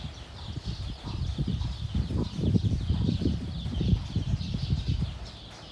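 Low, soft clucking from chickens close by, murmuring continuously with a faint outdoor hiss in the background.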